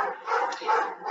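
A dog named Boss barks in a steady run of loud, close yaps, two swelling bursts over about a second with no talking.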